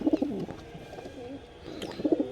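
Several pigeons of a bred high-quality pair coo in soft, low bursts at the start and again near the end, fairly close, with faint chirps between and no talking.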